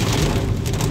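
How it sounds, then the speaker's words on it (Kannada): Heavy rain pours steadily in Mysore, a dense, continuous hiss of water falling and splashing on surfaces, close and loud throughout, with no voices. "ನೋಡ್ಕಂತ ಹೆಂಗೆ ಬರ್ತಿದೆ ಮಳೆ."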